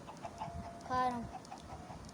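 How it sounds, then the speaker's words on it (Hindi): Hens on a small farm give one short, clear cluck or squawk in the middle, standing out over quiet background noise while someone speaks briefly. "ये मेरे फार्म में कुछ मुर्गियाँ जिन्होंने अंडे दे दिए।"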